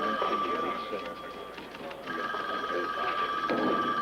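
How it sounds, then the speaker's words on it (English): A telephone rings in an office scene from a 1984 TV movie, repeated electronic trilling bursts under background chatter and voices. "Will somebody get that phone?"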